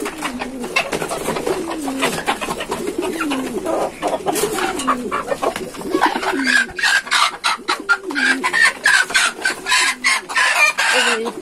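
Native chickens on a poultry farm with pigeons, giving repeated close clucks and calls that grow busier and louder toward the end, with a rooster crowing among them.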